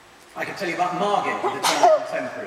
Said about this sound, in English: Or I could sneeze like the gentleman in the front row.